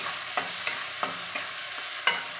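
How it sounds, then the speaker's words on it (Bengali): Chopped tomatoes frying in a pan for egg fried rice, a steady sizzle broken by about six sharp scraping stirs of a spatula at regular intervals, close and clear with no talking. "এবার টমেটো একটু ভাজা ভাজা হয়ে গেলে"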